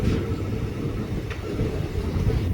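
Passenger train running on the Nilambur railway line through teak forest, a low steady rumble and rattle of the carriages heard from on board, moderately loud and continuous with no talking.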